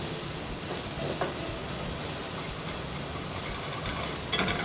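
Garlic butter sauce sizzles steadily in a pan, a constant crackling hiss at moderate distance with faint stirring scrapes and a brief clatter near the end, no voices.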